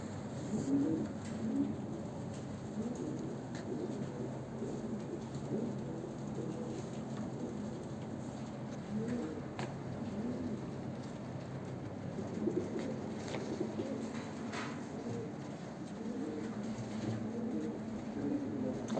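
Cooing from a coop of perdeli (feather-footed) Kerkük-Musul pigeons, a steady low murmur of overlapping coos with some faint rustling over the full length of the recording.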